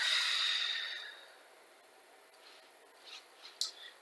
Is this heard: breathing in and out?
yes